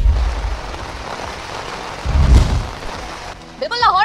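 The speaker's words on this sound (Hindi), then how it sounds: "लाहौर में इस वक्त तूफानी बारिश बरसने का सिलसिला जारी है" Stormy rain in Lahore, a loud rushing downpour with low rumbling gusts that swell midway, ending with a brief burst of tonal chirping sound.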